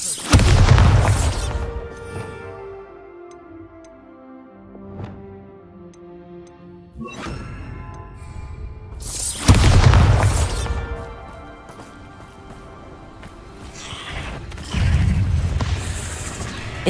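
Bombarda spell blasts in Hogwarts Legacy, three loud booming bursts spaced several seconds apart with ringing, crackling tails and quieter magical ticks between them, with no talking.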